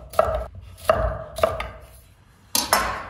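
Knife dicing a bell pepper on a cutting board, four distinct sharp chops with gaps between, close and clear, no talking.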